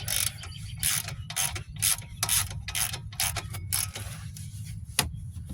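A hand ratchet tightens a bolt on the front brakes of a 2015 Chrysler 200, giving a close, steady series of rhythmic clicking strokes with brief pauses between them and no speech.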